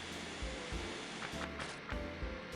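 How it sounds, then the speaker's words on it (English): Droning vacuum cleaner noise from the Garfield (2004) video game, a steady hiss-like whir running throughout with faint thumps and clicks underneath, moderately quiet and without talk. "Can that vacuum cleaner noise stop?"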